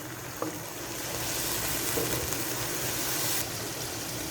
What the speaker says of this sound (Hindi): यहाँ मैंने 1 मिनट के लिए लहसुन को फ्राई कर लिया